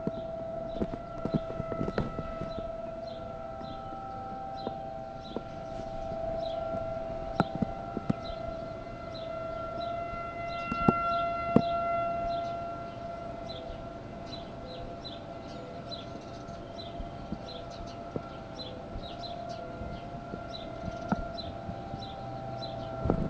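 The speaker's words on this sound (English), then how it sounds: "Hear the siren? Just while I'm recording." A steady siren wail drones through the scene alongside scattered clicks and knocks, sustained for the whole stretch.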